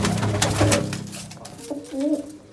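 A pigeon coos up close in soft, low rolling calls, repeated over a couple of seconds with a faint hiss behind.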